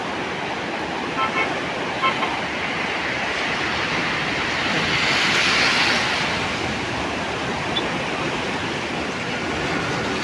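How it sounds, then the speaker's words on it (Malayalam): A constant roar of surf crashing on rock seawall boulders on the Kerala coast, broad and heavy, swelling slightly in the middle, with faint voices underneath. "തിരമാലകളെ കണ്ടോ കരിങ്കല്ലിട്ടിട്ടും അത് ഇടിച്ച് തെറിപ്പിക്കുന്ന അത്രയും ശബ്ദത്തിലാണ്"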